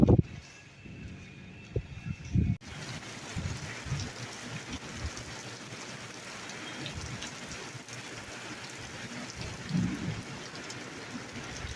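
Heavy stormy rain with thunder over a rooftop in a Punjabi village: a constant loud downpour hiss, with a deep thunder rumble and close knocks near the start and another low rumble later.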